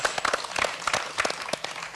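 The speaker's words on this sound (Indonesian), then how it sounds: "Kita berikan tepuk tangan sekali lagi untuk Pak Hasan." Scattered hand claps from a small audience, uneven and brief, rising and thinning over a couple of seconds.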